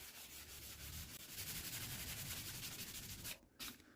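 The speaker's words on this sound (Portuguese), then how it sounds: "Então agora vamos continuar lixando aí" Car paint being hand sanded with sandpaper, a steady close rasping scrub that rubs back and forth continuously, breaking off briefly near the end before resuming.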